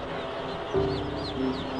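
A dense chorus of infant chicks cheeping at a hatchery during a fast processing procedure, with high overlapping peeps running steadily throughout and a few louder calls standing out.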